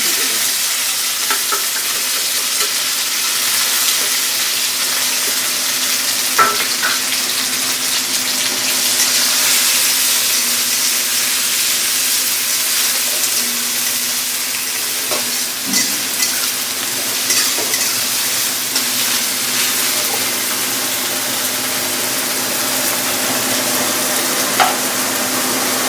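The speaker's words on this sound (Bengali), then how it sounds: "এইবার দিয়ে দেব রসুন বাটা, আদা জিরে গোলমরিচ বাটা আর পেঁয়াজ বাটা," Garlic, ginger, cumin, pepper and onion pastes fry in a pan with a steady, broadband sizzle, close and even throughout, with an occasional faint clink of a utensil.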